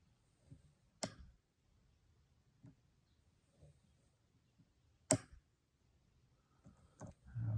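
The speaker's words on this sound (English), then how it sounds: "Getting large clicks out of pins." Pins in a lock cylinder give a few sparse, crisp clicks as it is picked, two of them sharp and prominent against near silence, with faint softer ticks in between.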